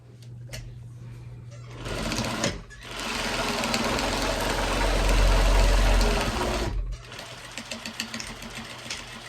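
A sewing machine runs a back stitch in a single close, loud, whirring burst of about four seconds after a shorter start, followed by faint handling clicks.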